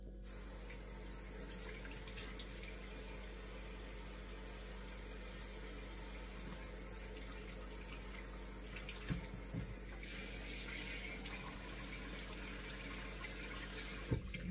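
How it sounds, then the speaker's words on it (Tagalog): Tap water runs steadily while food is rinsed before marinating, a continuous faint splashing flow with a few small knocks and a slight change in the stream partway through, and no talking. "hugasan ko na po. Tapos i-drain ko muna siya bago ko siya i-marinate"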